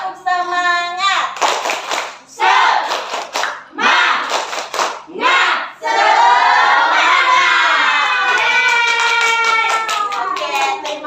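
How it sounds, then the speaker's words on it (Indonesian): A class of young children does a rhythmic spirit clap, loud sharp claps in short bursts with shouted chanting between them, close and filling the room. "Sebelum belajar kita tepuk semangat dulu."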